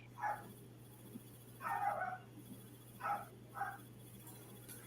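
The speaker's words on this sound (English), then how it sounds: "I hear a little dog." A small dog barks in four short bursts, the second a longer yapping run, sounding slightly distant over a steady electrical hum.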